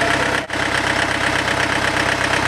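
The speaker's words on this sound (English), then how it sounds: "We got fuel into the cylinder now, so it's firing." Laboratory diesel engine firing with fuel in the cylinder, a steady close knocking idle with rapid regular pulses and a brief dip near the start.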